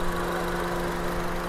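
The engine of a well-kept 7-seater family car, never overhauled, idles steadily and evenly as a low continuous hum with a smooth tone and no knocks.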